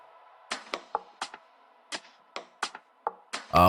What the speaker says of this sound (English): this percussion loop from Somatics, sounds like this